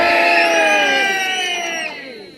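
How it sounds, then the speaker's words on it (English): A big crowd at Warwick Castle roars out a loud, sustained cheer, many voices whooping together, fading slightly before cutting down near the end. "I expect to hear a big loud cheer when I say, our enemy is on his"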